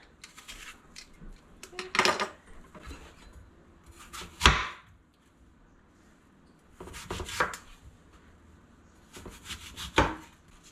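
A knife cuts through blemished apples for applesauce, giving a handful of crisp, close chopping strikes spaced a few seconds apart over a quiet background.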